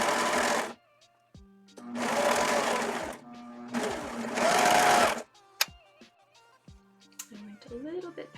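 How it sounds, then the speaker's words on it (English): A sewing machine stitching fabric along a seam, running in three loud whirring bursts of about a second each, with quiet gaps and faint tonal background sounds between them. "we're gonna sew along from here to our marking, and we are going to stop at the marking"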